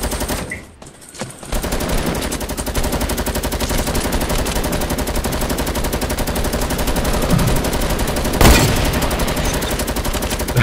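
Gunfire in the Fortnite video game: dense, rapid automatic shooting that runs almost continuously, with a loud sharp shot standing out near the end and no voices.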